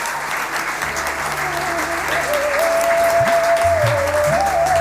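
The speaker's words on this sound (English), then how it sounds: "Let's give them a big round of applause." A crowd at a college graduation ceremony applauds loudly and continuously, dense clapping that builds slightly, while a sustained tonal hum runs underneath.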